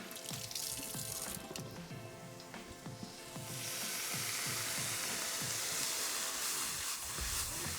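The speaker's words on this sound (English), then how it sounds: "Now just to create a little bit of steam, guys, I'm just going to grab a little bit of water, just in my hand." A handful of water thrown into a hot wok in a Chinese takeaway kitchen bursts into a loud, close, steady hiss of sizzling steam that swells partway through and keeps going after the earlier clatter of cooking.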